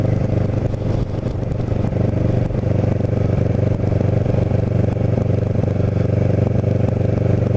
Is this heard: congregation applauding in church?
no